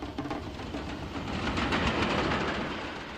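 Train on city railway lines in Cairo, rolling past close by with a continuous loud rumble and rhythmic clickety-clack of wheels, building slightly in the middle, with no voices.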